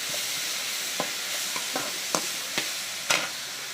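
Onion and tomato are sautéed together in a pan for a greens dish, giving a continuous frying hiss with soft spatula scrapes and occasional louder stirs, close and without speech.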